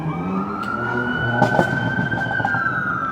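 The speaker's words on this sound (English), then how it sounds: "Mount Sinai, driving by with the sirens on" A Mount Sinai ambulance drives past on a New York City street with its siren wailing, a loud, steady, close rising tone over traffic rumble, with no one talking.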